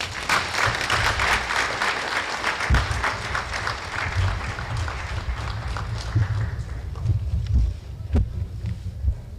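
Applause at the inauguration of a TETFund research and development committee in Nigeria, steady clapping from an audience with a low rumbling wind-like undertone and occasional louder claps.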